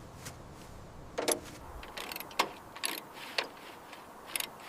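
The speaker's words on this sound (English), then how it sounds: "Now we torque them. Grab a socket and ratchet." Socket wrench and ratchet tightening bolts on an abandoned, long-neglected Lamborghini, heard as faint, irregular metallic clicks and short ratcheting bursts in a quiet workshop.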